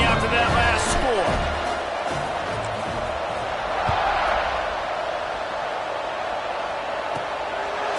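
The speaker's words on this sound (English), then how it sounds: "this crowd is buzzing after that last score" In the football video game NCAA 26, a stadium crowd hums and buzzes steadily after a score before a kickoff, a broad, continuous murmur of cheering under a commentator's voice.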